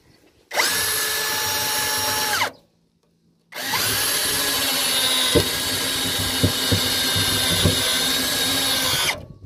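A Tanzu cordless drill spins freely with no bit fitted, a steady high motor whine that runs for about two seconds, stops briefly, then runs again for several seconds with a few small bumps in its pitch.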